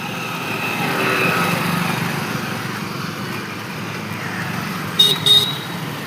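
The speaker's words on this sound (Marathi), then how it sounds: "अशा मोठ्या मोठ्या गाड्या येतात बाबा," Large vehicles pass on a road in the evening, a steady engine roar that swells and fades, followed by two short horn toots near the end.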